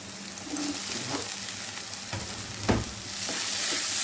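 Chopped tomato frying in a pan with browned onions while being stirred, a steady close sizzle with a few sharper clatters and scrapes of the spoon, no voices.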